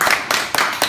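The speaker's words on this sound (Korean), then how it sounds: "박수 한번 쳐줘." A few loud, close hand claps in quick succession from a small studio audience during a live broadcast, about four distinct sharp claps.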